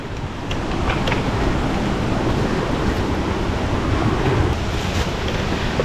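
A continuous roar of rushing water from a waterfall fills the air, loud and steady throughout, with a hissing wash of falling water and no voices.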